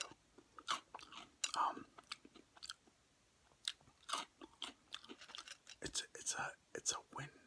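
Lucky Charms cereal being chewed close to the microphone, with soft crunching bites in an irregular rhythm and whispered talk in between.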